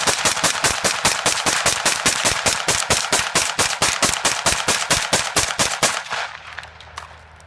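An Elite Force SL14 airsoft rifle firing about 40 BB rounds in a rapid, evenly spaced stream of sharp cracks lasting around six seconds, close and loud, then stopping into quiet mechanical hum.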